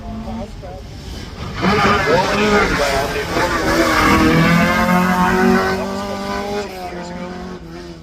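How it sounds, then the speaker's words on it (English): An ex-rally car at a hillclimb roars past, its engine note rising and swelling loudly before fading, with a commentator talking over it. "Ex-rally car."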